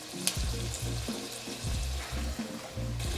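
Pork belly sizzles and spatters in a hot pan for pork binagoongan, with bursts of stirring and scraping breaking the steady fry; close and fairly loud, no talking.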